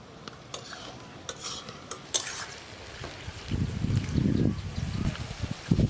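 Onions fry in a pot for beef curry. A spoon clinks and scrapes against the pot as they are stirred, followed by louder bursts of stirring over a soft background sizzle.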